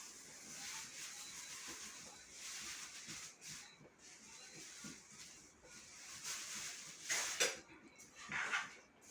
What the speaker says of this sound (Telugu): ఇదిగోండి ధనియాలు అయితే వేయించుకుందాం